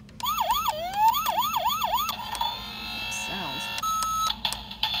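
A toy Paw Patrol fire truck plays its siren, a rising and falling electronic wail repeating several times, then shifting to other beeping tones and toy sound effects while a person talks over it in a store aisle.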